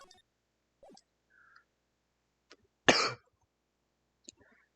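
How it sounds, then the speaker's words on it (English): One loud, harsh cough bursts out near the middle of mostly quiet surroundings, with a few small clicks and faint sounds scattered around it. "I've had just a really bad cough recently"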